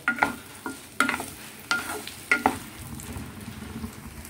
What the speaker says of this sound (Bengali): এগুলোও একটু হালকা ফ্রাই করে তুলে নেব।